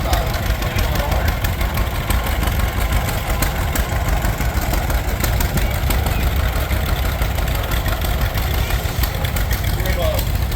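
A 1939 John Deere B tractor engine runs at a steady idle at an outdoor steam power show, a continuous close mechanical chug with constant vibration and no gaps.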